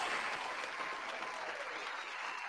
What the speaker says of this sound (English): give a big round of applause to Zeke Freak